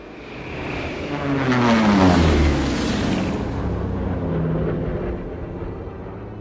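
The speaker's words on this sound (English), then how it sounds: "Yeah, I think that's our plane." A loud airplane engine roar swells and rumbles, rising then holding steady as the aircraft approaches low and passes overhead, with no voices, in a scene from the film Act of Valor.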